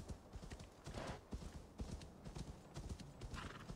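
Horse hooves clip-clop at a steady trotting rhythm while riding in the video game Assassin's Creed Valhalla, fairly quiet and continuous, with the occasional snort.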